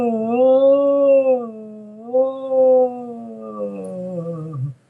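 A person's voice imitates a haunting, wailing howl heard in the woods: one long sustained, wavering tone that dips, swells again and slides down at the end, loud and close.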